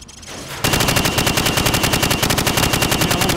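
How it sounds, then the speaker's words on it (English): Rifle fired from the hip at targets in the Call of Duty: Modern Warfare shooting range, a rapid loud burst of automatic gunfire that runs unbroken for about three seconds. "Now shoot at the targets while firing from the hip."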